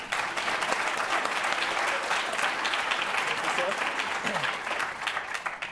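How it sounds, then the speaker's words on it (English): Audience applause welcoming a speaker at an evening academic symposium on PR and journalism: dense, steady clapping from a large crowd fills the whole stretch without a break. "you want to welcome him with a big round of applause"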